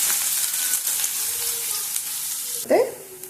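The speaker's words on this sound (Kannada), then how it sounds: "ಎಣ್ಣೆ ಕಾದ್ಮೇಲೆ ನಾನು ಇದಕ್ಕೆ ಈರುಳ್ಳಿ ಹಾಕ್ಕೊಳ್ತಾ ಇದ್ದೀನಿ" Chopped onions tipped into hot oil for egg rice burst into a sudden loud sizzle near the end, rising out of a quiet, faint hiss of heated oil.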